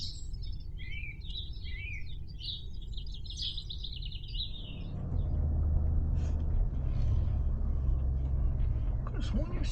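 Weka birds call in rapid, shrill, wavering chirps near a parked campervan, loud for the first half before fading as a low rumbling engine or road noise swells underneath.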